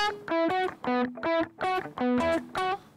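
Dry electric guitar notes picked with quick downstrokes and released short, each clipped note ringing briefly in a steady rhythm without delay or reverb, played alone and up close.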